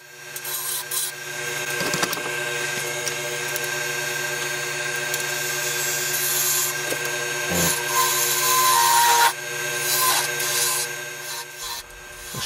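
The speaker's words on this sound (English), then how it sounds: "Just put the spindle roughing gouge in there to quickly get rid of all this surplus wood." A spindle roughing gouge strips surplus wood from a spinning blank on a lathe for a trinket box, giving a steady, close scraping rasp over a constant motor hum, with brief louder catches along the way and no talking.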